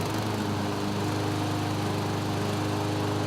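A Honda HRC216 lawn mower engine running steadily at close range, a loud, constant buzzing drone with no pauses and no talking over it.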